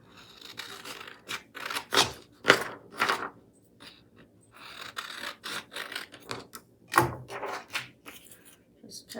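Scissors snip through a small 8x10 sheet of scrap paper in a run of short, crisp cuts with brief pauses, close and moderately loud, with no talk over them.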